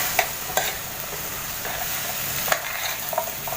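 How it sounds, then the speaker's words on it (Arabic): Okra sautéing with onion and garlic in a pan, an even sizzle under a few sharp clicks and scrapes of stirring, close and steady with no talk. "شوحها كده فيها تبقى حلوه اكتر طبعا"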